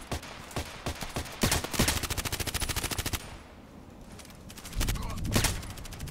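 Gunfire in the video game Contract Wars: rapid automatic bursts of shots in quick rhythmic strings, with a few isolated single cracks at the start and a louder burst near the end, loud and close.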